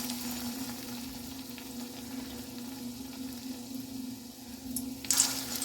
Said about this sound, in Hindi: अब चलते हैं इसे फ्राई करने के लिए। तो अब क्या करेंगे, बेसन के घोल में लगाएंगे और इस तरह से हम डाल देंगे।